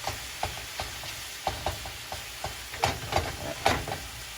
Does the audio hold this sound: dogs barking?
no